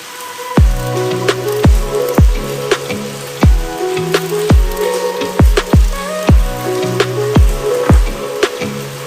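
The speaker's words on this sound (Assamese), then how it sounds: "এতিয়া মাছ ভাজিম" Fish frying in hot oil in a home kitchen gives a steady sizzle and spatter, broken by a dozen or so sharp, loud knocks at uneven intervals.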